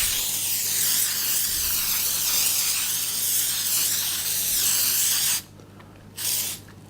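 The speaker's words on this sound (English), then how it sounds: "I'm actually going to spray that paper with baking spray." Baking spray hisses from a can onto parchment paper lining a cake pan in a close, continuous burst lasting about five seconds, followed by a brief second short spray.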